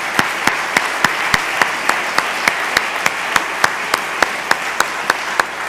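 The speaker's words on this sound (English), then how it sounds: "A round of applause for Reverend Buchanan." Audience applause at an annual conference plenary session for Reverend George Wesley Buchanan: a steady wash of many hands clapping, with sharp individual claps standing out at regular intervals throughout.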